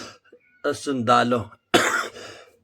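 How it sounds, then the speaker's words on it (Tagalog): A man coughs and clears his throat in short harsh bursts while speaking, his voice heard between and around the coughs. "Inuubo po ako"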